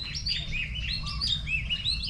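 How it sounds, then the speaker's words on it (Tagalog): Several birds chirp and tweet in quick, bright bursts over a steady low hum of background noise, fairly close and continuous. "Naririnig nyo yung ibon? Doon o."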